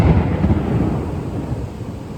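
Thunder rumbles low and steady through a heavy rainstorm, with a dense wash of rain behind it and a slightly louder roll at the start that slowly settles. No voices can be heard.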